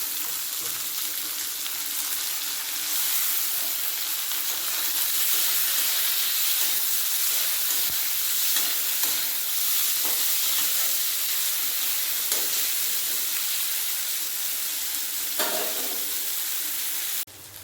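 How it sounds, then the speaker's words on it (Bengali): Tomato goes into a pan of fried onions and sizzles loudly, a bright continuous hiss of frying that holds steady close by. "পেঁয়াজ ভাজা হয়ে গেছে এর মধ্যে দিয়ে দেবো একটা টমেটো দিচ্ছি"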